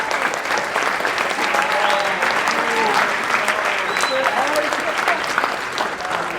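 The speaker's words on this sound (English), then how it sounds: "So, round of applause for Mr. Edgerly." An audience at a school symposium claps steadily and loudly throughout, a thick continuous wash of hands with a few faint voices mixed in underneath.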